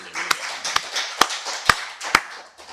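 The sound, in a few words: congregation clapping in church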